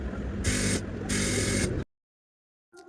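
A sewing machine stitching a hijab joint runs in two short, close bursts of rapid mechanical whirring with a brief pause between them, then stops into silence.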